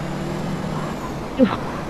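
A loud, steady bus engine drone from the video game GTA DayZ runs throughout, with a brief swell of noise near the end.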